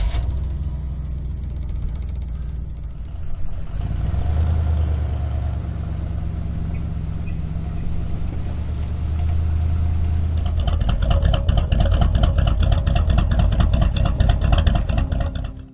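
A 1974 Chevrolet El Camino engine while driving, a low rumbling note that swells as the car accelerates, fades briefly, then grows louder and harsher near the end.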